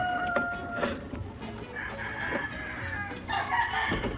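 Chickens cluck and a rooster crows nearby, a busy flock calling over each other without pause.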